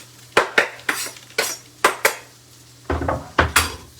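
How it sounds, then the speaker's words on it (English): Cashew nuts being tossed and toasted in a pan, sounding as a run of sharp clattering knocks and scrapes of utensil and nuts against the pan, roughly a dozen close, loud hits with steady pauses in between. "I just want to get a little bit of a toasting effect on these cashews."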